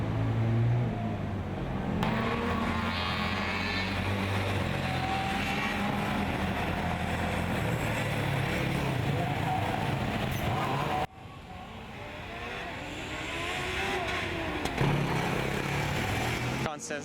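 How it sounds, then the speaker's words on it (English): Formula Student race car at an endurance event, running at full throttle and drifting through a cone chicane, its engine a steady loud drone that dips briefly partway through, with a commentator talking over it. "He's back on at full throttle, drifting around the cone killer chicane."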